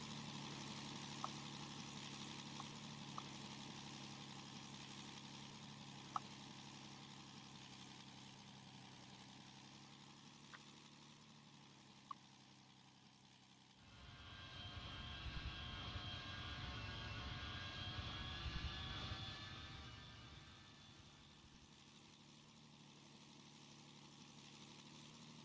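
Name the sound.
P-38 aircraft engine in Roblox PTFS video game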